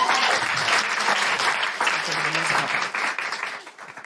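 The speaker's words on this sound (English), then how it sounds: "Big round of applause for Melissa." A town hall audience claps for Melissa, a brief burst of brisk, fairly close applause that thins and fades out toward the end.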